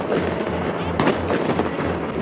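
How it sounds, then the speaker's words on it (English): Fireworks boom and crackle continuously, heard from a boat on the water, with one sharp loud burst standing out among rumbling explosions echoing off nearby houses. "Fireworks on the boat."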